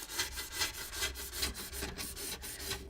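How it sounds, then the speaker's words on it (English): A scraper drags over a grimy household surface during a whole-house cleaning, making quick, rhythmic rasping strokes up close, with no talking. "And then I'm using my favorite tool, one of my favorite tools, scraper."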